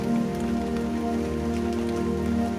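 Rain falls steadily, a dense even patter close by, alone and unchanging for a few seconds.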